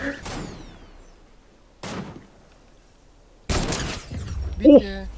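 Fortnite game gunfire: three sharp, loud shots spaced a second or two apart, each ringing briefly, with game sounds and a voice at the end.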